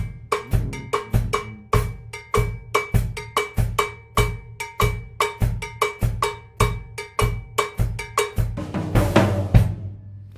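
A Bembe groove on drum kit with hi-hat and bass drum striking together in unison beneath a bright cowbell-like bell pattern, the hits repeating in a steady rolling rhythm, close and alone.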